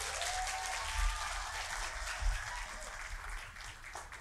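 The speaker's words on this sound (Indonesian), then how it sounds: "Kita beri tepuk tangan pada grup Ignite Campus." Applause for a church campus ministry group during an Easter service, a dense steady clapping from a large crowd filling the hall, holding at even loudness throughout.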